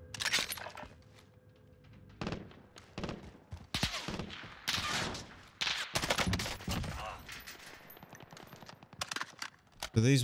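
Gunfire in the Warzone video game, with bursts of automatic shots crackling in irregular clusters at varying distance while players talk over the action.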